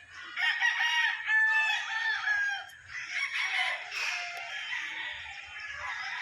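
Tornado-breed gamefowl rooster crowing in a long, loud, wavering call that trails off, followed by softer clucking and other fowl sounds close by, with no talking.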